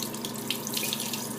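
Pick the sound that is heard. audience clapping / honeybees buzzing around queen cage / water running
water running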